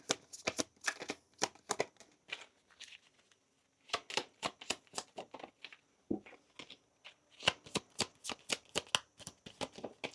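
A tarot deck is shuffled by hand in close, crisp bursts of riffling and snapping cards, with short pauses between rounds.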